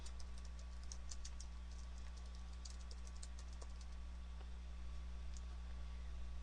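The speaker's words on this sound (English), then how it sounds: "Next, we're going to type in the title of the item." Quiet, steady typing on a computer keyboard, a fast run of light key clicks over a low constant hum, with no voices.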